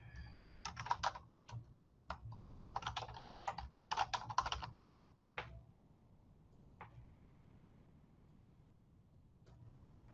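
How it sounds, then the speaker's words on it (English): Quiet bursts of typing on a computer keyboard, clusters of quick key clicks separated by pauses, then a few isolated taps near the end over a faint background. "I just type in it."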